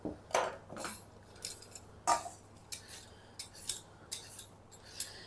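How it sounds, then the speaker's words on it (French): Cucumber and carrots being peeled with a peeler, a series of short rasping scrapes at an uneven rhythm, close and fairly quiet, with no talking. "Donc, concombre, on coupe les extrémités, carottes aussi, et on vient éplucher les deux."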